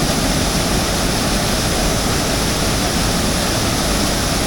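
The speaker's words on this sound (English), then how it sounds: "Time to let more water out now." Water pours loudly and steadily out of a canal lock on the Wigan Flight, a continuous broadband roar of rushing water close by with no pauses and no voices.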